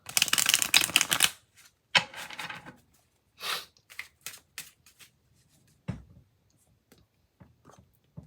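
Arcana tarot cards being shuffled by hand: a loud riffling burst at the start, then shorter, separate flurries and slides of cards, close and crisp against near silence.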